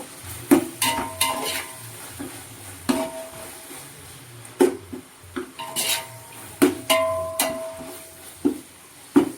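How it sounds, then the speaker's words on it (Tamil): Mint and coriander leaves frying in a pan for biryani, with a spoon repeatedly clanking and scraping against the metal in bursts over a faint, low sizzle. "இதில் நம்ம எடுத்து வச்சுருக்கிற புதினா, மல்லி, கொத்தமல்லி இது எல்லாத்தையும் சேர்த்து ஒரு 2 minutes ஃப்ரை பண்ணிக்கணும்."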